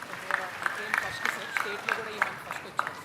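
A stage audience at an event with the Chief Minister breaks into clapping, heard as a series of sharp, evenly spaced claps roughly three per second under a voice.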